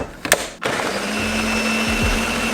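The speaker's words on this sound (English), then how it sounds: "I'm gonna put this to blend." A kitchen blender starts up after a couple of brief clicks and runs steadily, whirring and blending ingredients for a gut-healing drink, with a motor pitch that dips and rises partway through.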